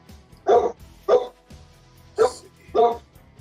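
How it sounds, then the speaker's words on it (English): A dog guarding a property at night gives four separate, fairly close barks at uneven intervals over a low background hum. "Sorry about that. My dog is guarding the property tonight."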